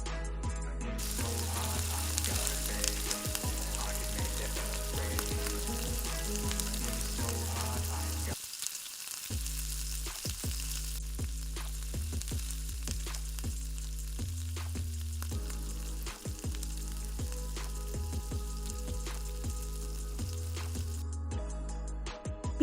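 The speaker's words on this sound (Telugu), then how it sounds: "వీటిని స్టవ్ పై ఆయిల్ వేడి చేసుకొని అందులో వేసి నెమ్మదిగా ఫ్రై చేసుకోవాలి" Spice-coated fish pieces frying slowly in hot oil on a stove, a continuous bubbling sizzle with a steady rhythmic low thumping pattern running underneath and a brief dip partway through.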